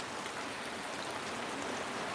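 Steady rain falling on an outdoor film set, a dense, even hiss of drops pattering on surfaces, constant and moderately faint throughout with no voices.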